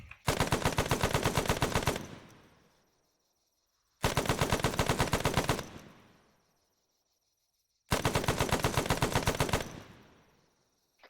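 Machine gun fire in a military video game, three long, loud sustained bursts of roughly two seconds each, evenly spaced about four seconds apart, each tailing off into near silence, with no talk.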